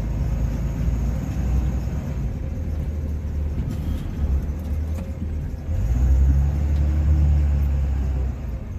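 A Cummins-powered Ram pickup plowing light snow produces a steady diesel rumble that swells louder near the end as the engine works harder, with no voices.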